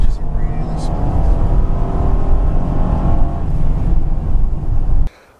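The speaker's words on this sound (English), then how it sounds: "Let's see how this gear changes really smooth." A 2014 Honda Pilot AWD accelerating, its engine a loud steady drone heard from inside the cabin as it pulls through the gears, ending abruptly.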